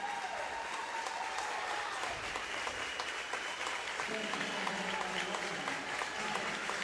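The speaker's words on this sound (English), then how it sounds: "Crowd gives McCarthy a standing ovation here" Crowd at a TAPPS 2A high school basketball semifinal gives a standing ovation, steady sustained applause and clapping filling the gym, moderately distant and continuous.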